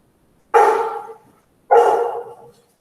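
A dog shut outside barks twice, each a loud, sharp bark spaced about a second apart, with quiet in between and no voices.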